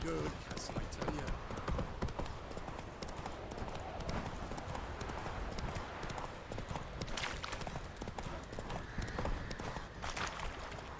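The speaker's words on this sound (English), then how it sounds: "Whoa there, Roach." Horse hooves clip-clop steadily and loudly through a busy in-game scene in The Witcher 3: Wild Hunt, with a voice talking over the rhythmic beats.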